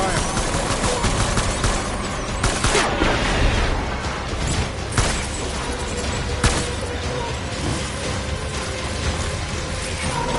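Continuous gunfire and mechanical clatter from the video game Death Stranding, a loud, dense, steady wash of shots and metallic noise with a few sharper cracks standing out.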